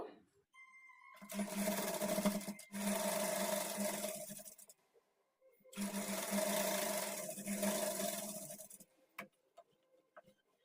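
A sewing machine stitches the sleeves of a kurti, running in two long, steady bursts separated by a short pause, followed by a few light clicks. It is close and clear, with no talking.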